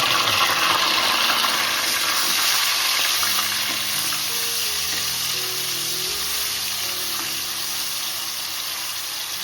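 Tomato and onion puree is added to a hot pan for a crab curry and fries with a loud, broad sizzle that slowly eases, alongside some low tonal hum.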